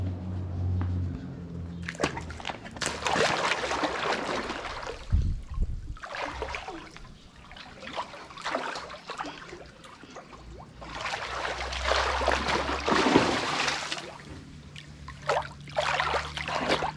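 Someone climbs into a chilly home swimming pool, the water sloshing and splashing in several loud bursts with quieter dripping between them, close by and with no talk.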